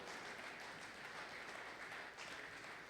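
Sustained applause from a church congregation during a Sunday worship service, a dense, even wash of clapping that holds steady throughout with no voices standing out.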